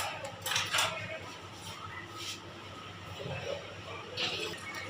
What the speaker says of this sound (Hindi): माशाल्लाह, देखें अब हम इसे मिक्स करेंगे आराम आराम से।